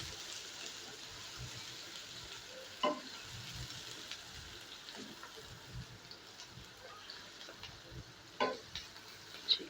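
Four or five medium onions frying in a pan toward light brown for a masala okra dish, a faint steady sizzle with soft stirring scrapes and a few louder knocks near the end.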